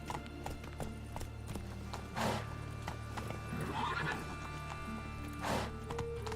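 A horse from the game Witcher 3 whinnies twice in clear bursts while hooves clip-clop steadily on hard ground beneath a constant game ambience, with no talking.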